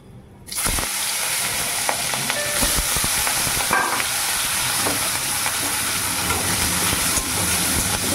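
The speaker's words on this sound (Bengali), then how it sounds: "কড়াইতে তেল দিয়েছি, একটু কালো জিরে দিয়েছি। এবারে দেখো পেঁয়াজ লঙ্কাগুলো দিয়ে দিচ্ছি।" Onions and chillies drop into hot oil with black cumin in a kadai and burst into a loud, steady frying sizzle. Faint stirring clicks sound close over the sizzle, and no one speaks.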